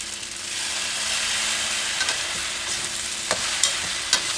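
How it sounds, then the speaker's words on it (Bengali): Pasta being stirred in a frying pan with sauce, a steady close sizzle with scattered scraping clicks of the utensil against the pan. "পাস্তাগুলো দিয়ে ভালো মতো মিশিয়ে নেবো"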